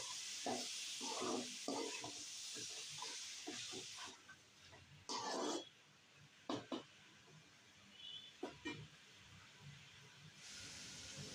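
Washed chicken sautés with softened tomatoes for Chettinad chicken gravy: a faint steady hiss of cooking, broken by intermittent scraping stirs, quiet and with no voices.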